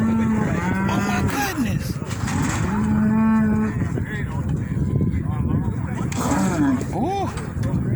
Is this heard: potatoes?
no